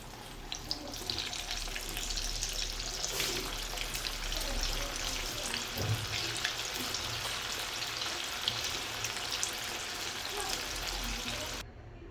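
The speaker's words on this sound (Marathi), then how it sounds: "आता हे बाकीचे पण तळून घ्यायचे आहे" Manchurian balls fry in hot oil with a continuous crackling sizzle and scattered pops, close and steady until the sound cuts off near the end.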